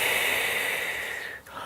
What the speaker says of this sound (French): on va inspirer en étirant les bras vers le ciel et expirer les bras sur le côté